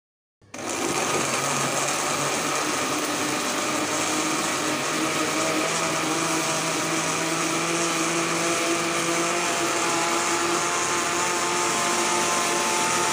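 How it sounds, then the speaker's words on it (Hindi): An electric blender whirs loudly and steadily after a sudden start, blending mango, banana and 1.5 cups of milk into a milkshake, a continuous high motor drone lasting over twelve seconds with no talk. "मिल्क डालने के बाद हम इन सभी को अच्छी तरीके से अब ब्लेंड कर लेंगे।"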